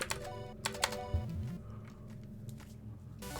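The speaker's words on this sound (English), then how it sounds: "Clicking sound." Rapid game clicks from Jimmy and the Pulsating Mass, a burst of sharp taps near the start and again at the end over a steady low musical bed, with no talking.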